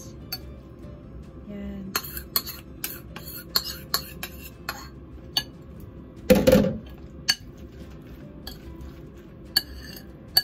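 A spoon stirs cooked lumpiang Shanghai filling in a bowl, giving scattered light clinks and taps against the dish, with one louder scraping burst midway. A brief spoken word comes near the start.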